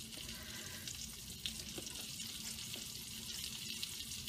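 Chanterelle mushrooms frying in butter in a pan just used for soft shell crab, giving a steady, fairly quiet sizzle throughout with a few faint clicks and no talking.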